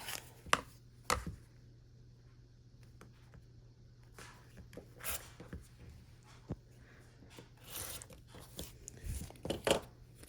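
A rotary cutter or blade trims the edges of a tiny foundation paper pieced quilt block along a ruler, giving soft scattered cutting and paper-rustling sounds, faint and close over a low steady hum.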